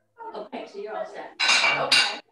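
Dishes and cutlery clinking in the background of an online conservation commission meeting, bright clattering bursts toward the end after a person speaks briefly.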